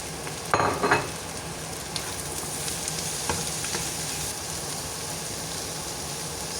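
Sliced cucumbers go into a hot pan and are stirred while cooking japchae, giving a steady close sizzle with a burst of scraping and clatter near the start and lighter stirring knocks later.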